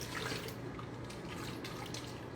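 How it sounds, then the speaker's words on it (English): Water poured into a container while making peanut porridge with oatmeal, a steady broadband splashing and trickling that runs continuously for a couple of seconds at close range with no talking. "I'm gonna pour some water in my container to remove"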